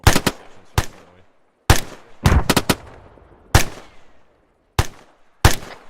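Gunshots in Arma 3 fired toward a hill: eight or so sharp, loud reports spaced under a second apart, each followed by a short fading echo, with brief quiet between some of them.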